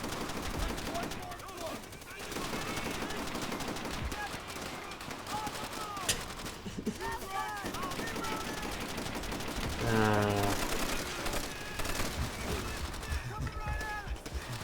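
Machine gun fire in Call of Duty: World at War crackles in repeated bursts amid other gunfire and mechanical clatter, with someone talking over much of it.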